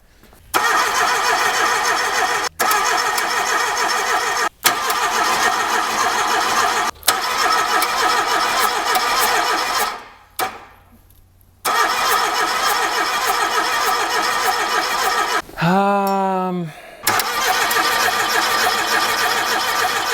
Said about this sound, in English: Key on, move some fuel, and maybe we'll get these injectors bled.